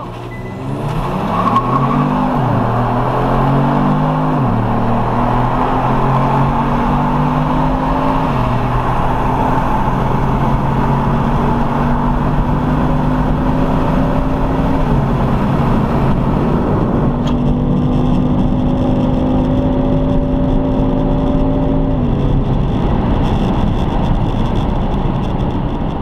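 A Kia Stinger fitted with an HPS cold air intake pulls hard from a launch in a race, its engine note climbing steadily through several gear shifts, loud and close for the whole run.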